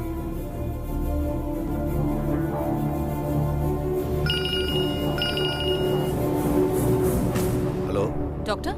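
A telephone rings with a repeating electronic trill in an indoor household scene, heard fairly loudly under continuous background music, with voices talking over it.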